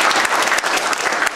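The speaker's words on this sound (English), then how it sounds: "Give them a round of applause." An audience at the opening ceremony of a health centre's GP surgery claps in a dense, loud round of applause that stays steady and close throughout.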